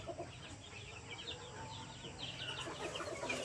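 Broiler chickens in a small-scale farm shed chirp and cheep softly and continuously at a distance, blended into a low, even room noise with no talk.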